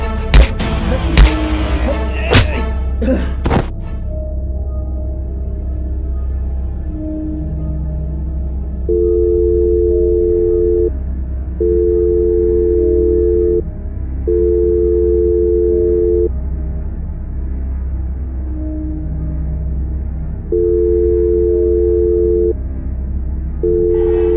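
An unanswered phone call's ringback tone repeats in steady two-second bursts with short gaps, moderately loud over a low hum, after a few sharp knocks at the start.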